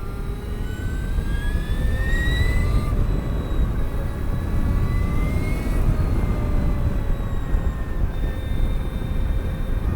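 An Energica Experia electric motorcycle riding, with a faint high electric motor whine rising and falling in pitch over steady loud wind and road rush, and no talking.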